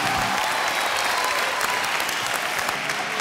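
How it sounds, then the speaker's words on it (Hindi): A studio audience at a television game show applauds loudly and evenly, a dense wash of clapping that holds steady for about three seconds with no talk over it. "तालियां प्लीज।"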